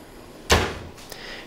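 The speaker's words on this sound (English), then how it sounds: "And this is a sliding door." A sliding closet door in a hotel room glides along its track with a single loud rolling sweep, then a brief soft knock as it settles, heard close up in a quiet room.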